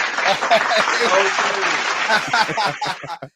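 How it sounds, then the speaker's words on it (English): Audience clapping and cheering at a live comedy-style show, a dense wash of hand claps with scattered laughter, steady and loud throughout before cutting off near the end. "Go ahead and get y'all claps and laughs in now"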